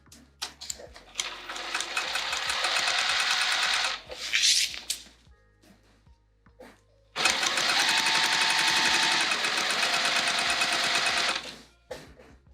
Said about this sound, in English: And I'm going to sew down to hold it.